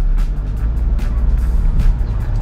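A car drives on with a steady low engine rumble and road noise heard from close by, fairly loud throughout with no talk over it.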